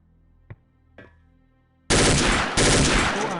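OICW rifle from Soldier of Fortune 2 firing at a range target: two sharp single shots, then a loud sustained roar of automatic fire with a brief break before it resumes.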